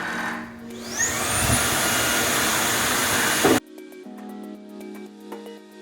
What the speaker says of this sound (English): Heated self-cleaning and heated drying are about to start.